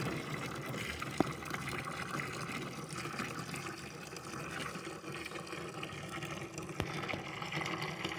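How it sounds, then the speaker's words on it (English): Water trickles and splashes steadily out of a siphon hose draining a water-logged well tank, a faint continuous outdoor flow with a couple of small clicks. "See, I sucked on it and let go, and the water's coming out."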